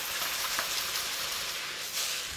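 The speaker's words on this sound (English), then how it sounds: "make sure the wok is really nice and hot and that sizzling sound is still going before you pour it in" Noodles and chicken sizzle in a hot wok, a steady bright hiss of frying heard close and alone, with a few small crackles and a swell near the end.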